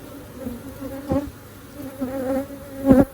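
Honeybees hum close by during inspection of an opened hive of seven and a half frames. The steady buzzing swells in pitch and loudness several times, with a few soft bumps and handling sounds mixed in.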